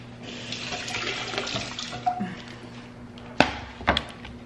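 Tap water runs steadily over romaine lettuce hearts in a kitchen sink, a continuous close splashing stream with a couple of brief knocks near the end.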